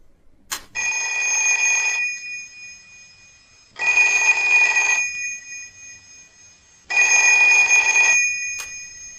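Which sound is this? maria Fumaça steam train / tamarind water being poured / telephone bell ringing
telephone bell ringing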